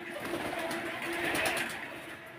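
A pair of Indian Kaldam pigeons gives low, soft cooing at close range over a steady, dense background hum, with no one talking.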